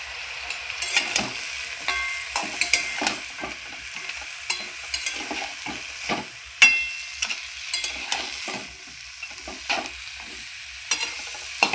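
Vegetables fry in a pan with salt, turmeric and fried bori lentil dumplings, stirred with repeated close spatula scrapes and knocks over a steady hiss of sizzling, with no talking.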